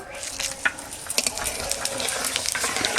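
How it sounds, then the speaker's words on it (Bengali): Whole spices sizzle as they hit hot oil in a village kitchen: bay leaf, dried chilli, cumin and whole garam masala. Steady frying hiss runs throughout, with a few sharp pops and stirring clicks close by. "ফোরমে দেব তেজপাতা শুকনো লঙ্কা গোটা জিরে গোটা গরম মশলা একসঙ্গে দিয়ে দেব"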